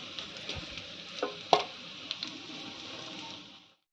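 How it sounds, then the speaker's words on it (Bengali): Egg muitha dumplings fry in hot oil, giving a soft, steady sizzle with a few sharp clinks and scrapes from stirring, with one louder knock midway, before the sound fades out. "ডিমের মুঠাগুলোকে লাল লাল করে ভেজে উঠিয়ে নিচ্ছে"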